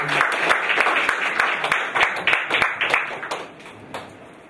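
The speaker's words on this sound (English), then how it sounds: "Let's give all of them another round of applause." Audience applause at an Atomy company presentation, a dense wash of clapping that stays steady, then thins and tapers toward the end, with a few sharper individual claps.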